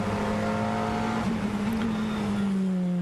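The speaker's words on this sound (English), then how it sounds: "number 11 Audi R8 LMS, as we go on board with Sebastian Loeb." Onboard an Audi R8 LMS race car at speed during an FIA GT qualifying race at Nogaro, France: a loud, steady engine drone holds high revs throughout with a slight shift in pitch, with no talk.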